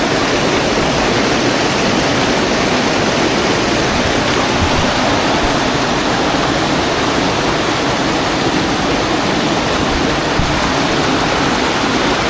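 Cascade waterfall pouring over rocks into a stream, a loud, steady roar of rushing water that fills the whole scene without a break, close by and unchanging.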